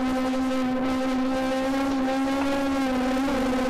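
Honda S2000 engine held at high revs while drifting in the Live for Speed racing game, a loud steady whine with small pitch wobbles and a slight rise near the end, alone without talk.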